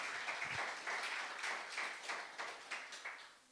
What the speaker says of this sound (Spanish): Un aplauso para los padres,